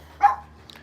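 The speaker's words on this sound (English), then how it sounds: "my dog's out because she's barking up a storm" A single short dog bark, sharp and moderately close, followed by quiet.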